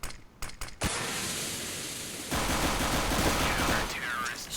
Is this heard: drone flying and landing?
no